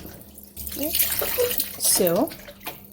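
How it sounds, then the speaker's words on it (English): Tap water runs into a basin as cow foot meat is washed under it, with splashing and gurgling surges and a short word spoken over the flow. "you got to wash off your meat"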